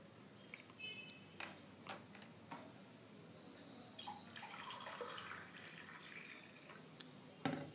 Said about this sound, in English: Pour some water in the glass.